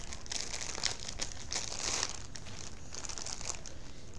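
Stiff plastic packaging around an Attack on Titan Scout Regiment cloth cloak crinkles and crackles continuously at close range, with brighter bursts of rustling as it is pulled and twisted.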